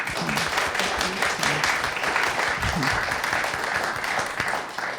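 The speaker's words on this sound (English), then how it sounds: "Can we just get one more round of applause for Saige?" An audience at a library author talk applauds in a sustained burst of clapping, with a voice speaking over the applause throughout.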